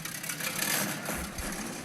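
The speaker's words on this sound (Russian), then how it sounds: "Мотор тарахтит." A tank engine in a video game rattles and idles steadily, a dense mechanical clatter with low rumble, moderately loud and continuous without speech.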